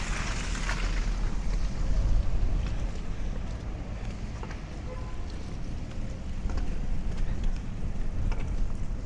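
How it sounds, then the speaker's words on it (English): Strong wind buffeting the microphone during wet snowfall on a Brooklyn street, a constant low roar with gusty swells, no voices present. "It is windy. The snow is very wet."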